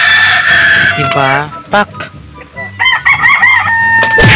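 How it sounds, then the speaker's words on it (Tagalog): Two roosters made to fight crow and cluck loudly at close range, with scuffling, while people shout and talk excitedly over the birds. "Pinag-aaway niya yung dalawang mga manok."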